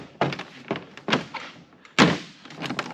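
A door panel is banged onto the door of a 1996 Ford Bronco, giving several close, dull thunks at uneven intervals, with one heavier knock near the end.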